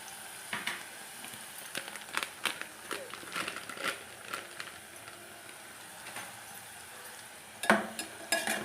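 Onions frying in a pan until reddish-brown give a steady low sizzle, broken by scattered scraping clicks from stirring and a sharper clatter near the end.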